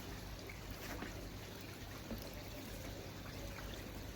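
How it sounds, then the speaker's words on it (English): Water runs steadily through a slow siphon into a bowl beside a koi pond, a faint continuous pouring trickle with no talk over it. "Got water now flowing into the bowl."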